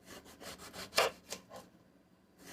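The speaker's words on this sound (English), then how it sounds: "Cutting up our eggplant" An eggplant being cut into half-inch slices with a knife, a series of short scraping strokes through the flesh, one sharper cut standing out, close and fairly quiet with no talking.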